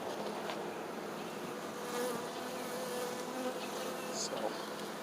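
Angry honey bees buzz around a hive as a 5-frame nuc is moved into a 10-frame box, a steady, dense, moderately faint drone with no pauses.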